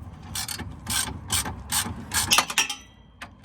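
A ratchet wrench clicks rapidly in several short bursts, close by, loosening a sway bar end link bolt on a Honda Civic, with brief pauses between strokes.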